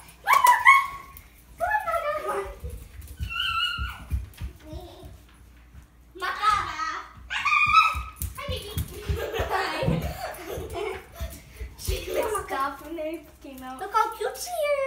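A young dog yips, whimpers and barks in high-pitched bursts while someone talks nearby.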